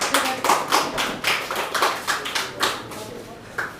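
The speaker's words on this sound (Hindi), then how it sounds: "आप लोग पहले खुद के लिए एक बार ताली तो बजा लें" A small group claps for themselves at a poetry gathering, producing sparse, uneven claps with distinct individual hits in a loose rhythm, close and moderately loud.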